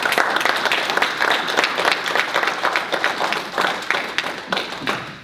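A round of applause from the audience at a political panel event, lively and close with distinct individual claps forming an uneven rhythm, tapering off toward the end with no talking.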